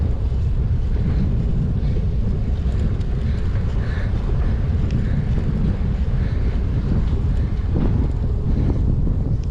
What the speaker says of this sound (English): The wind's whooping my butt today.